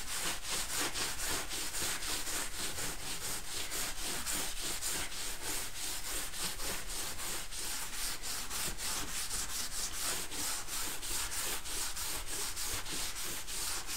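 Wet grade 2 steel wool scrubs along the grain of a wooden surface in an old building, a loud, close, continuous back-and-forth rasp in a fast even rhythm with no voices.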